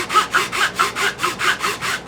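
A hand saw cuts through a pine wood block for a Pinewood Derby car in steady back-and-forth strokes, about ten rasping pulls in two seconds, close and alone.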